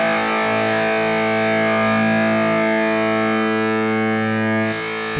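Heavily distorted modern metal guitar tone from a NUX MG30 amp modeler, a dense sustained saturated wall of sound ringing steadily for about five seconds with no talking.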